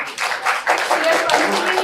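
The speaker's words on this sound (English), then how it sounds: "So a big round of applause for the team." Applause from an audience in a seminar hall, steady clapping filling the room throughout, close and moderately loud, with a voice talking over it.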